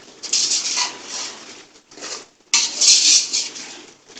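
Biryani masala being stirred and mixed in a cooking pot, with bursts of metallic scraping and clattering from a spoon against the pot, pausing briefly midway before resuming louder.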